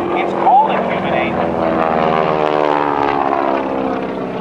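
Aerobatic propeller airplane flying a half Cuban 8 at an air show open house, a loud droning engine with shifting pitch as it dives and turns, heard under a voice talking.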